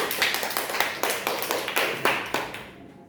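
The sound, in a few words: classroom clapping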